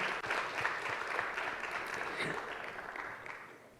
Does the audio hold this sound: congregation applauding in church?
yes